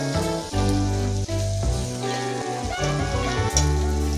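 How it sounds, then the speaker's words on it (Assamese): Dried fish with a little turmeric fries in a pan with a continuous close sizzle and spitting crackle, running under steady tonal background music. "শুকান মাছখিনি যিমান পাৰে একদম ৰঙচুৱাকৈ ভালদৰে ভাজি ল'ব।"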